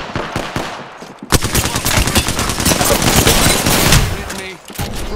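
Loud, close automatic gunfire in Apex Legends, rapid sustained bursts of rattling shots with a few single cracks before, dense and continuous for several seconds.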